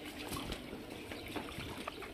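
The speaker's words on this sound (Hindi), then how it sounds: "पानी आ रहा है साथ के साथ में।" Continuous trickling, splashing water runs close by while wheat grain is washed under it in a village home, a steady wet rush with small irregular splashes and no talking.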